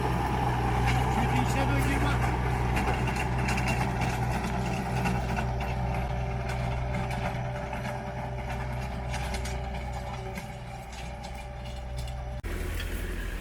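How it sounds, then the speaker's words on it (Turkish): A tractor engine drones loudly and steadily close by, with a low rumble and mechanical clatter from a towed rotavator in a weedy field, while people talk over it. "burada rotavatör çekiyor"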